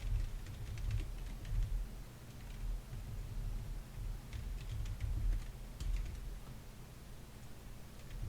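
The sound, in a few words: typing code on a computer keyboard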